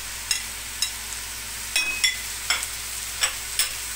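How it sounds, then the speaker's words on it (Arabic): Onion sautés with cooked meat in a pan for a shawarma fatteh, a continuous gentle sizzle marked by regular scraping strokes of a spoon every half second or so, with no voices. "هشوحه مع اللحمة."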